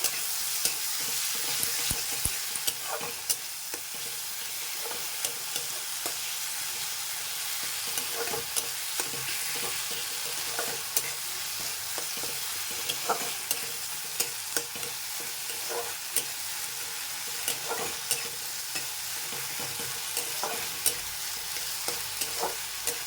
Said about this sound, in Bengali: থেতো করে রাখা আদা রসুনের পেস্টটাও দিয়ে দিলাম এবারে নাড়াবো